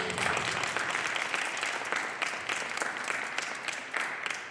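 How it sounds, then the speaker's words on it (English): Audience at a jazz-in-worship event clapping for a bass player, a steady, full round of applause from a crowd that fades slightly toward the end, with no talk over it. "let's have a round of applause for Tony DePaulis on the bass"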